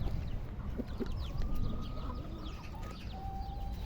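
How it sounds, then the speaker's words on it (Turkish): Chickens on a free-range chicken farm cluck and chatter steadily at a moderate distance, with short overlapping calls and a thin whistle-like note near the end. "Her tarafta tavuk var."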